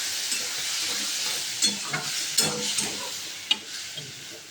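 Water splashed into a hot pan for garlic butter Maggi gives a loud continuous hissing sizzle, broken by several spatula scrapes and knocks as it is stirred, close up with no talking.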